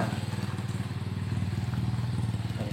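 A Honda Megapro motorcycle, bored up and tuned for touring, idles while warming up after sitting unused for a long time, its single-cylinder engine thumping in a steady, loud, close rhythm throughout.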